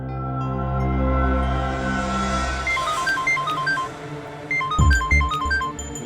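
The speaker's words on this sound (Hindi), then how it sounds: "उसी का फोन है।" A mobile phone ringtone plays a repeating electronic melody of bright beeping notes over a low sustained tone, clear and close, with no talking.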